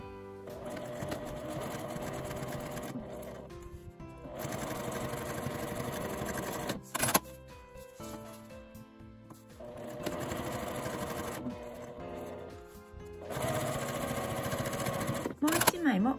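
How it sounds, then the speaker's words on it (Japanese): A sewing machine stitches tissue-cover fabric with a one-centimetre seam allowance, running in several steady bursts of rapid needle chatter separated by short pauses and clicks. "中表に合わせて1センチの縫い代で縫います。"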